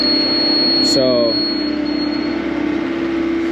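A grade-checking level mounted on a stick gives a short electronic beep during a backyard French drain layout in a driveway, heard once as a brief tone over a steady engine-like hum and constant background drone.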